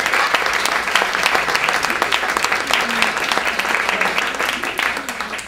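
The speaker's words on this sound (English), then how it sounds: "let's give them a round of applause" A crowd claps steadily in sustained applause, dense and fairly loud throughout, with a faint voice murmuring beneath it.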